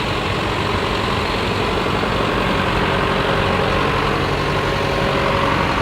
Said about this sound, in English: Oh, here comes another John Deere. Looks like he's all set up for plowing a little snow here.